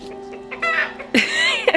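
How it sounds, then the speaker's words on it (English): A chicken roaming a French chateau grounds gives a few short, nasal clucks and squawks close by, loud and bursty, with no speech. "This chicken is following us everywhere."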